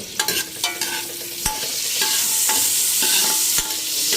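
Garlic sizzles steadily in a hot pan as the first step of a chicken curry, with a utensil scraping and stirring in sharp, irregular knocks over the continuous frying hiss.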